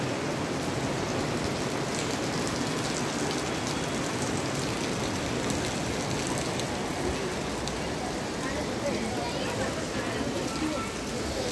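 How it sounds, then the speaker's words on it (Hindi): Heavy rain falls as a steady, dense hiss of drops that holds at even loudness throughout, with no break. "बढ़िया वाली बारिश हो रही है गाइस, देखिए आप लोग, बहुत ही शानदार बारिश हो रही है।"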